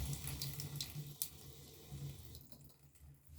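Tap water running steadily into a sink, a continuous close splashing hiss with small drip accents, heard alone without talk over it.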